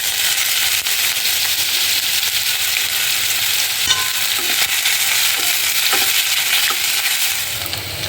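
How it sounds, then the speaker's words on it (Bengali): Steady, loud sizzle of ginger, cumin and bay leaf frying in hot oil in a pan, with occasional soft pops and stirring scrapes throughout, no voices. "এখানে একটুখানি তেলও দিয়ে দিয়েছি প্যানে গরম করার জন্য, এতে যাবে এখন ফোড়ন"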